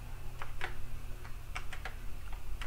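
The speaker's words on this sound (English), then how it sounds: "Now we can type set SSID and then the name of your network." Keys clack on an Amiga computer keyboard as commands are typed, a quick irregular run of separate taps, close but quiet over a steady low hum.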